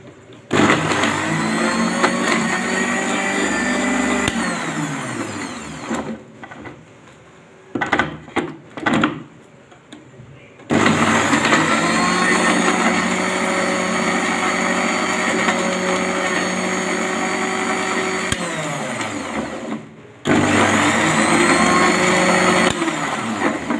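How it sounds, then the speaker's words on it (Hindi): A loud, steady blender blending tomatoes and green chilies whirs in long bursts, stopping briefly between runs with short rattling pulses, then starting up again at full power. "टमाटर और सब्ज़ मिर्च इनको हम अच्छे से ब्लेंड कर लेंगे।"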